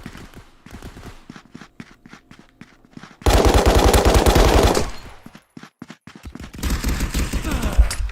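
Rifle fired one-handed in the VR shooter Contractors VR: first a string of close, sharp single shots, then two loud sustained bursts of rapid automatic fire separated by more scattered shots.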